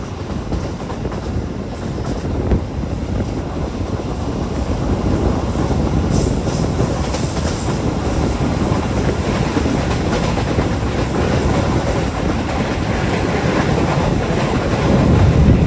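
Inside the Jaka Tingkir express passenger train heading toward Solo, a loud steady rumble of wheels on rails fills the carriage, with faint rhythmic clacking and no voices.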